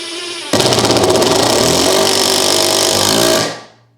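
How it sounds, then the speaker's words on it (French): AEG BSS 18B6 18 V impact driver driving a longer screw at full trigger: a loud close rattling hammer-buzz starts abruptly, holds for about three seconds and then winds down as the screw seats. "Allez, on va tester avec une vis un peu plus longue. J'appuie à fond."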